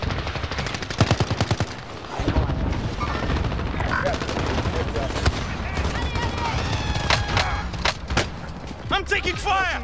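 Dense gunfire from the video game Call of Duty: Modern Warfare, with rapid automatic bursts and single shots layered over a constant battle rumble, while voices shout over the combat.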